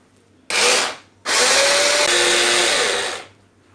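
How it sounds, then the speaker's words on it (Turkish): A food processor blending homemade pesto sauce: a loud motor whir runs in a short half-second pulse, stops, then runs steadily for about two seconds before winding down, with no voices. "Hemen rondomuzu çeviriyoruz."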